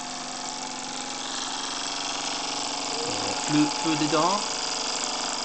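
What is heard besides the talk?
vintage Wilesco steam engine running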